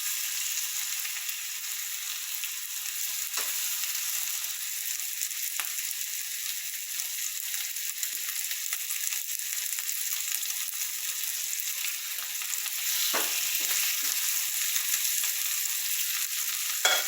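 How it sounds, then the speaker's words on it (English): Chicken sears in hot oil in a frying pan, a steady, even sizzle that holds for the whole stretch at moderate level with no talk over it, as the meat for a roasted chicken and asparagus dish with pan sauce cooks undisturbed. "When you're doing something like searing, put it in and walk away."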